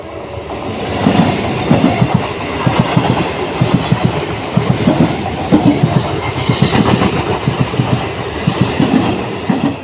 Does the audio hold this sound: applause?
no